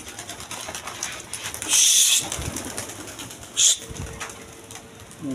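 Pigeons from a flock of about twenty pairs coo close by, broken by two loud bursts of wing flapping as birds take off.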